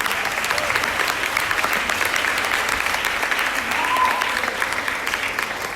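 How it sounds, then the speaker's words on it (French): After a school musical, All About Ella, an audience applauds warmly and continuously, a thick, close patter of many hands with scattered crowd murmur mixed in. "applaudissez-les"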